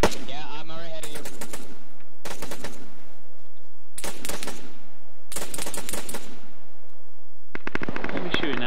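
Automatic gunfire in Arma 3 comes in several loud, sharp bursts with silent gaps between them. Voices talk at the start and at the end.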